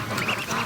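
Ducklings quack softly in the rain after a downpour, small scattered calls over a steady wash of falling water, close by and fairly faint.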